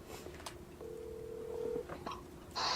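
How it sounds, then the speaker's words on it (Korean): A telephone call connects on a Korean radio broadcast: a few short tones, then a steady ringback tone of about one second, followed by clicks and a brief final tone. "잠깐만 전화하겠습니다."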